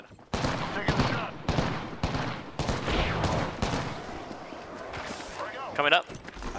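Gunfire in a battle royale video game, loud rapid bursts and fusillades of shots close up, with people talking over the shooting.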